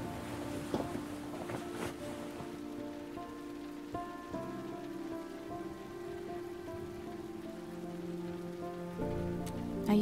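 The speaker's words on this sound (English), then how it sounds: "Let's wait out the rain in the booth." Steady rain patters on surfaces in the hitchhiking video game Road 96, a soft, even downpour with faint sustained musical tones beneath it throughout.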